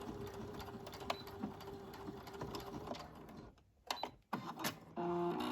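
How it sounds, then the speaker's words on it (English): A sewing machine stitches slowly through extra-thick fabric for a baby clutch pocket, running as a steady close mechanical whir that falters and pauses briefly near the end before resuming. "So we'll do this side. Just go slow because it is extra thick. You don't want to break a needle."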